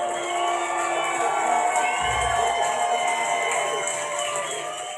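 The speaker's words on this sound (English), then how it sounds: "Thunderous applause right now!" A crowd at a live jazz-rock show at the Whiskey A Go-Go roars with steady cheering and whoops, loud and continuous, with a sustained tone ringing beneath it.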